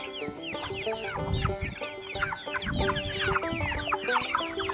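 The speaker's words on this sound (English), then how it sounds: "There's our chickens there," About twenty chickens kept in a chicken tractor cluck busily all at once, a dense, overlapping chorus of short calls from close by, with some rustling underneath and no voices.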